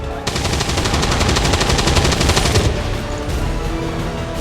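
Sustained automatic weapons fire in XCOM 2: War of the Chosen, a loud, dense burst of rapid shots lasting a couple of seconds, followed by quieter scattered firing and mechanical clatter.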